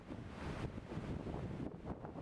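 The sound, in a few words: waterfall in a gorge, Vördingsås waterfall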